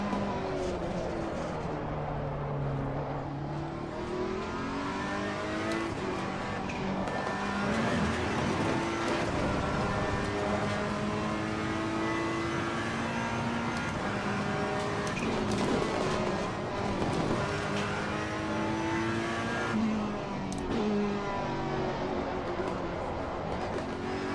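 Roaring engine of a racing car in the racing video game Assetto Corsa Competizione, rising and falling through gear changes, continuous and close throughout with no talking.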